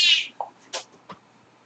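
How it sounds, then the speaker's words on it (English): A cat gives a loud, drawn-out meow up close, followed by a few shorter chirps and mews in quick succession in an otherwise quiet room. "it's the loud meow"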